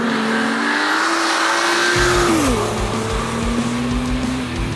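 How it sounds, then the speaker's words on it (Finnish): A 2016 BMW M2 with stability control switched off revs hard as its tyres squeal, a loud, sustained engine drone with a long rising and falling tyre screech heard close up. "Heti tuolta 1500 kierroksesta alkaen lähdetään syöttämään vaan reippaasti kaasua, niin hyvin sitkeä moottori kyseessä."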